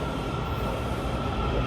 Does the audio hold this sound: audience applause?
no